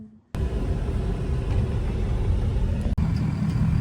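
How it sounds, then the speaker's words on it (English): A truck heading to a farm, heard from inside as a loud, steady engine drone and road rumble that starts abruptly and continues without a break. "Now we're on our way to the farm in the truck"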